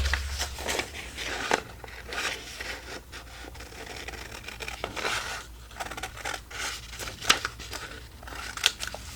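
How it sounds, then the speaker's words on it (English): Scissors snipping through a section of a folded junk mail paper envelope, a series of close, crisp paper cuts and rustles spread across the clip. "So I will now cut this little section off that I've pretty much scored with a fold."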